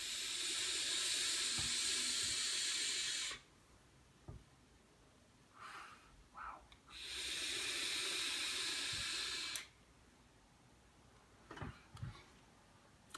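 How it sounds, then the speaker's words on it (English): Two long hissing draws on a vape set to 50 watts, each a few seconds of steady airy rush, separated by quieter pauses with faint clicks and soft exhales nearby. "Wow, just such a nice, pleasant vape"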